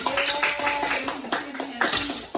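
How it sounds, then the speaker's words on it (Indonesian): Schoolchildren in a classroom clap for a classmate, a short burst of scattered claps over a few seconds, with a voice tone lingering faintly beneath. "Tepuk tangan buat Andre"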